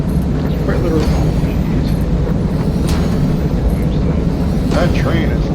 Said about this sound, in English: that train is loud.